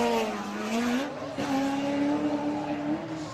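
A grassroots drift car screams through a turn in a qualifying run, with its engine holding a high, steady wail over loud, continuous tire squeal. The car stays close throughout.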